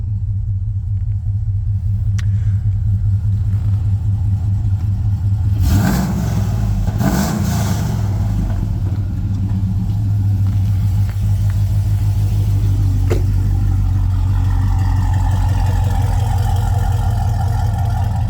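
The V8 engine of a 2007 Chevrolet Trailblazer SS rumbles loudly at idle up close, then surges in a brief rev before settling back to a deep steady burble.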